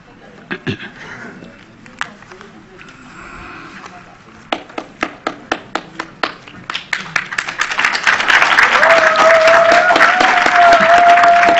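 Children in the audience at a tribunal hearing on Hurricanes Katrina and Rita break into applause: a run of sharp separate claps swells into loud, sustained clapping and cheering with a high whistle-like tone, after brief talk at the start.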